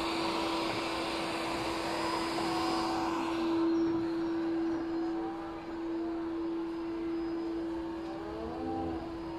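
dBot W100 window cleaning robot running on glass, a quiet, steady motor drone with a constant tonal hum and soft shifting whirs as it moves, continuous and close with no talk.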